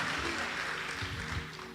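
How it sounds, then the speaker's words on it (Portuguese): A church congregation claps during an evening sermon, giving a continuous, dense spread of hand claps with a faint voice and low tones beneath it. "essas palmas é para Jesus, essas palmas é para o Senhor"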